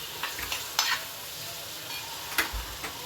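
Peanuts and tomato are stirred in a hot pan, a faint steady sizzle broken by a few soft scraping clicks of a spatula, close and quiet with no talking.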